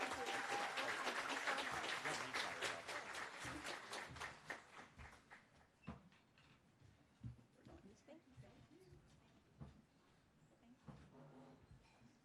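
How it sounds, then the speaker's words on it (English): Loud applause from an audience that gradually thins out and fades, leaving scattered claps and quiet murmuring. "one more round of applause for the Congresswoman"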